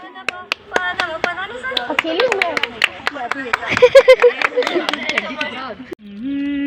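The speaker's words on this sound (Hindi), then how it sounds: "ताली मारो एक ठो" Hands clap sharply and rhythmically at a college gathering, with loud singing over the claps. The clapping may come from the audience or from the singer.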